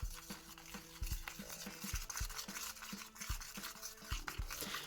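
A small stick stirs glue-free homemade slime, giving soft, wet, squelching scrapes in a steady repeated rhythm, close up and fairly quiet, with no talking.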